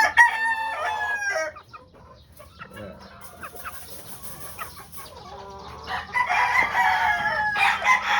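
Pure white Kelso gamefowl cluck and crow in bursts, with a loud crow near the start and another strong crowing stretch toward the end, over faint background chatter.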